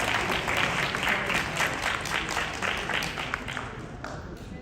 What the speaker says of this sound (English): So round of applause for the next group of performers.